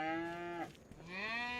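A cow in a farming video game gives a long, loud, close moo that dips in the middle and then rises again in a second drawn-out, tonal bellow, with no talk over it.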